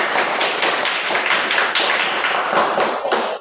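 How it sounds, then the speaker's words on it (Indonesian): A classroom of students claps in a steady run of quick, loud, closely spaced handclaps that carry through to the end, close and crowded with no voices. "tepukan."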